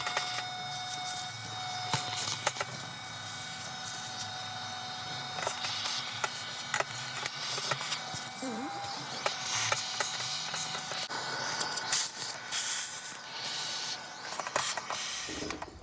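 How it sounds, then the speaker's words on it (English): A vacuum cleaner runs steadily, nearby, cleaning a car engine, with scraping, clicking and rattling as the nozzle moves over hard surfaces; no voices. "we're just going to vacuum the motor just to clean it up a little bit"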